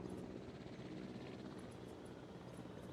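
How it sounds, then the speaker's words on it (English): Helicopter in the video game Jurassic World Evolution, a faint steady rotor drone that holds throughout, distant and unbroken, with no talk over it. "Oh, there's the helicopter."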